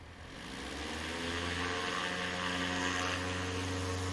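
A 2021 Husky light aircraft flies at a STOL practice in Pinedale, Wyoming, its propeller engine giving a steady droning hum that swells slightly as it passes at moderate distance, with no talk.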